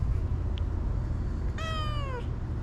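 A cat that is being fed meows once in a drawn-out, falling tone, lasting about half a second. It sits clearly above a steady low background hum, with no talking.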